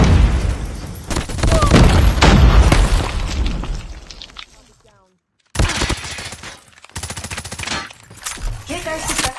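A grenade explodes in a Call of Duty Mobile esports match, followed by bursts of gunfire and booms, loud and close, then a silent gap before more dense firing.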